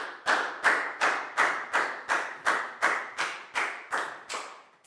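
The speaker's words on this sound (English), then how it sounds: "a big round of applause for Pat" A classroom group claps for a student in a slow, even rhythm, about a dozen distinct, evenly spaced claps in unison, fairly close and moderately loud, with no talking over them.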